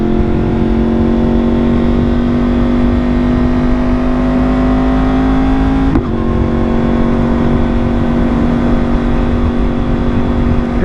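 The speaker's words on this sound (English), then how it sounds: "I hope the microphone is picking up how freaking loud this exhaust is." Loud, close exhaust note from a 2023 Yamaha R1M sportbike after an ECU flash and fuel remap, holding a steady high idle-rev drone with a brief blip midway, no talking.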